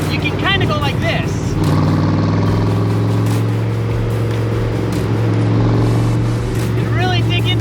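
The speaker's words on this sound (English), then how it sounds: "really dig into these corners in this muscle car" A 1965 Shelby Cobra muscle car pushed hard through corners, its engine a loud, steady close-up roar with shifting pitch, and a voice speaking briefly over it.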